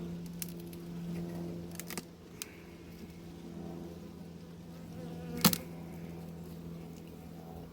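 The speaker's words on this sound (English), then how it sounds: "there are plenty of bees in there" A steady low buzzing drone of many honey bees inside a hive hums throughout, faint and close, with a few sharp clicks and knocks.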